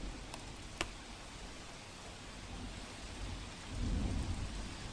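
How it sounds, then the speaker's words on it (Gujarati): Heavy monsoon rain falls in Dwarka, a steady loud hiss of rain on surfaces, with a low rumble of thunder swelling near the end. "તો દ્વારકાના લાંબા અને ટંકારિયામાં ભારે વરસાદ"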